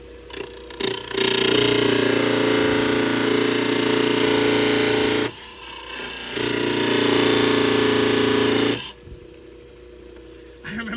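A Genie trim saw attachment with a diamond blade cuts stone in two long, loud, steady runs of grinding whine, separated by a short pause, before the blade spins down near the end.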